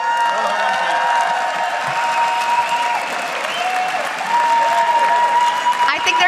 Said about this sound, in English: I think they're going to keep cheering for you guys.